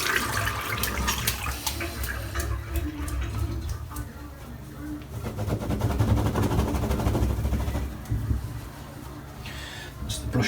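Shaving brush being rinsed under a running tap, a steady broadband wash of water with intermittent splashing and dripping, fairly loud and close, with no talk.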